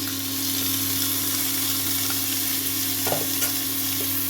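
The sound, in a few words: stirring and frying tomatoes with spice paste in pan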